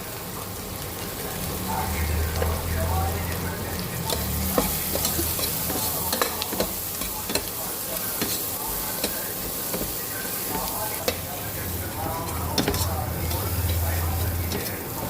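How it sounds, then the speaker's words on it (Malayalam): Steady sizzling and frying of small onions with turmeric in a pan, with occasional stirring scrapes and clicks, continuous throughout, with faint voices in the background. "ഉള്ളി നല്ലോണം ഒന്ന് വഴങ്ങണം"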